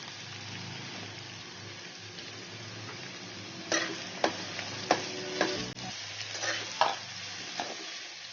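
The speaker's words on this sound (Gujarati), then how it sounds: "હવે અમે 4 મોટી સાઈઝની ડુંગળી લીધી છે અને ઝીણી ચોપ કરી લીધી છે, તે નાખી દઈશું" Finely chopped large onions go into hot fried masala for dhaba-style paneer masala, giving a steady soft sizzle with several sharp clinks and scrapes of a spoon stirring in the pan.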